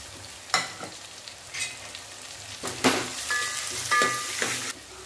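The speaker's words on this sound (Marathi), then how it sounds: "त्याच्यामध्ये शेवग्याच्या शेंगा आणि मेथी टाकून घ्यायचे। छान असं दोन्ही पण भाजून घ्यायचं" Drumsticks and fenugreek leaves sautéing with tomato in a pan make a steady sizzle, with several louder stirring scrapes and clatters breaking through at intervals.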